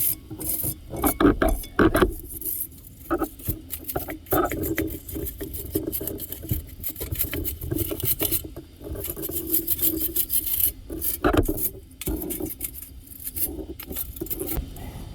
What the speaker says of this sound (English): I'm actually just gonna scrape off this thing a little bit.